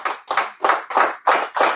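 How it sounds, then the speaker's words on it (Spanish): Applause at a church service sounds as about six rhythmic, close bursts of clapping hands in quick succession, with no talk over them. "Un aplauso a Cristo."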